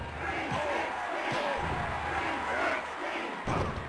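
A loud, roaring arena crowd from the PS1 wrestling game WWF War Zone swells and surges continuously, with a few thuds of bodies hitting the mat cutting through the steady cheering.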